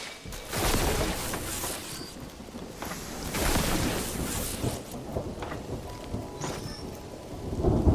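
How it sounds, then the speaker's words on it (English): Rain in the video game Mind Over Magic falls steadily as a soft, constant hiss, with low thunder rumbling and swelling in waves beneath it, quiet and even throughout. "Still raining out here."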